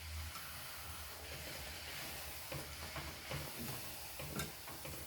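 Stuffed puri fries in hot oil, a quiet, continuous sizzle and hiss with occasional soft stirring or spattering bursts, heard close and faint with no voices.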